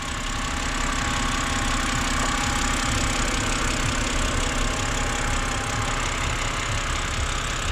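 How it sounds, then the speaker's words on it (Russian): A BMW E92 engine idles with a steady, dense mechanical hum and a faint, fast ticking from the hydraulic lifters, heard close and continuous with no talk. "Я слышу, видимо, компенсаторы немного цикают или что это."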